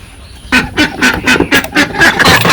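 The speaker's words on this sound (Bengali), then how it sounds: "নিলয় চলো হাঁসের দরজাটা খুলে দাও তো" Ducks quack loudly and close by as their coop door is opened on a village morning, a run of about seven raspy honking calls in quick succession.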